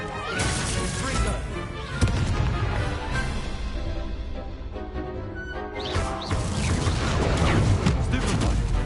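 Loud, dense spell-combat blasts from a fire spell in a Hogwarts Legacy battle, with bursts of crashing impacts at about two and six seconds over a constant wash of game effects and music.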